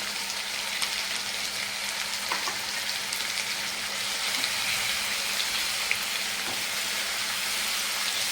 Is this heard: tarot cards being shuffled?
no